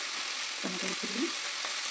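Tomatoes frying in a pan for uppittu give a steady hiss of sizzling oil, with a short soft clatter of stirring in the middle.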